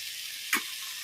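Tempering spices and dried red chillies hitting hot oil in a kadai, a brief sharp crackle over a steady low sizzle.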